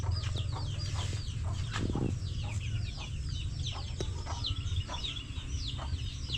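Chickens on a backyard farm cluck repeatedly in short, overlapping calls at moderate distance, with a steady low background hum and no talking.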